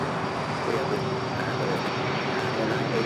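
Airliner in older Coletta Air livery landing at LAX, coming in fast, a continuous loud broadband engine roar with a faint steady whine, heard from the ground.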